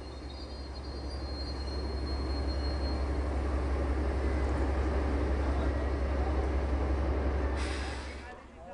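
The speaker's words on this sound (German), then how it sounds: "die Museumszüge regelmäßig auf der Schwäbischen Waldbahn mit Dampf oder Diesel unterwegs" A DB V60 diesel museum train running on the Wieslaufbahn rolls past with a steady, loud rumble and clattering rail noise, swelling and holding before fading near the end, with a brief high squeal of wheels.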